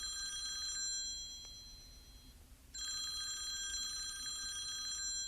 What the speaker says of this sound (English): picks up her phone, and dials the high school.